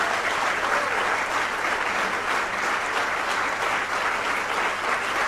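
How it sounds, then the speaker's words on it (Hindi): Dense, steady applause from a large audience at a ceremony honouring Sri Sri Ravi Shankar on Mahavir Jayanti. The clapping stays loud and continuous without a break. "करतल ध्वनि के साथ, जोरदार तालियों के साथ उनका सम्मान करें।"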